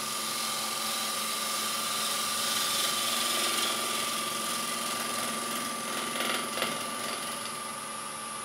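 A wood lathe spins a carved wooden kuksa cup while a bevel cut is turned, giving a continuous whirring motor drone with faint scraping of the tool against the wood, steady and close.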